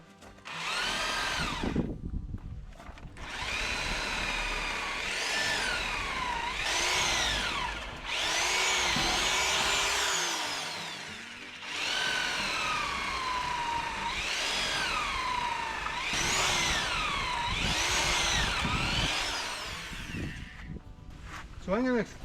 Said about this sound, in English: I've got a 1/2 inch drill bit in here.